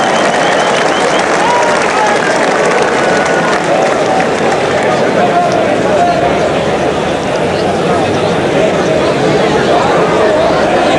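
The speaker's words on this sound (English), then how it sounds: "Applause from the crowd" Crowd applauding at a 1981 Waterloo bowls match, a dense continuous wash of clapping and murmur filling the whole stretch, loud and steady with voices mixed in.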